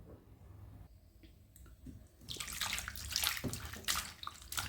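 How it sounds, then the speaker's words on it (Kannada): Warm water poured into a bowl to soak cut cauliflower florets for a masala recipe, starting as a quiet trickle and building into a louder, steady splashing rush in the second half. "ಒಂದು ಸ್ವಲ್ಪ ಬೆಚ್ಚಗಿರೋ ನೀರು ಹಾಕಿ"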